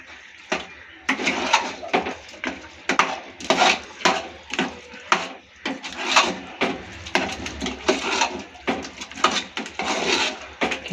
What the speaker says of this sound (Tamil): அதுக்கப்புறம் கிண்டி விடுங்க.